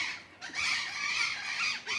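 Parrots squawk in loud, harsh bursts at the Warsaw Zoo, forming a near, continuous screeching chorus with a brief dip between calls and no speech over it.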